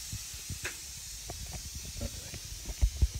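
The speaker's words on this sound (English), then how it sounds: "Sorry, if the pressure cooker is loud in the background" A pressure cooker hisses steadily and faintly in the background, a thin continuous sound with small clicks and knocks scattered over it and two low thumps near the end.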